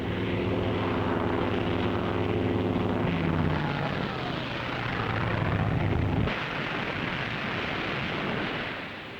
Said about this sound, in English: Here comes Pete Erickson, fast with his rudder control shot away.